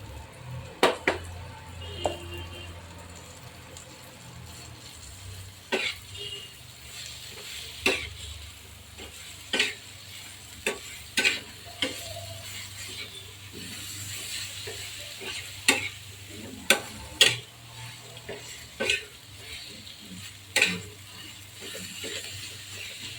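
Paneer bhurji masala being stirred and fried in a pan, a soft continuous sizzle under repeated spatula scrapes and clinks against the pan at an irregular, unhurried pace, close by.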